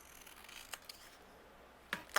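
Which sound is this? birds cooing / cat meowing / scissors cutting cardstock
scissors cutting cardstock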